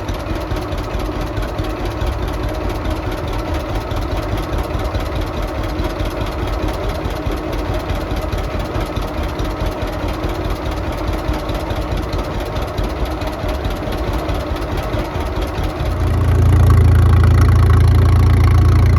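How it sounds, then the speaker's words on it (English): A John Deere two-cylinder tractor engine idles smoothly at an outdoor steam show, a loud, even, continuous rumble up close, swelling louder and lower in the final few seconds. "that's how smooth a two-cylinder tractor runs"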